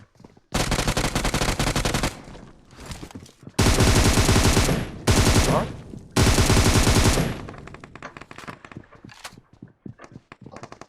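Video game gunfire in loud sustained bursts of automatic fire, several long volleys broken by short gaps, close and harsh, trailing into scattered lighter shots and footsteps at the end.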